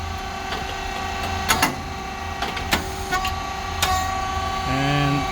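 A SYP4509 rice cake machine with coated moulds and a switch box operates with a low mechanical hum, punctuated by several sharp clacks and metallic hits, then a steady tonal beep near the end.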